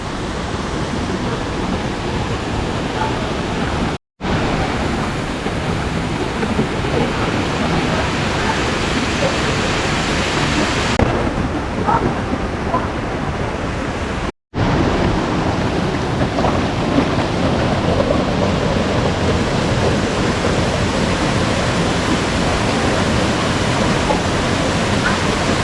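Waterfall at a countryside hot spring: a loud, steady rush of falling water fills the whole stretch, with two brief dropouts along the way.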